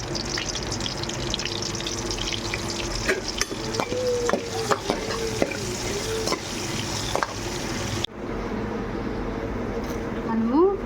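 Boiled eggs frying in oil with a little salt and turmeric for a tomato egg curry, a steady sizzle with scraping stirs running throughout, close and fairly loud, with a brief quieter patch near the end.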